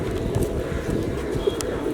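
A flock of pigeons being fed coos steadily, a dense, close, low burbling chorus that runs unbroken throughout with no clear speech.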